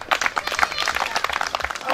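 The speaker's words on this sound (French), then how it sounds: "que nous allons applaudir" Church audience applauding at a French-language gospel gathering, a dense continuous patter of many hands clapping throughout, fairly loud and close.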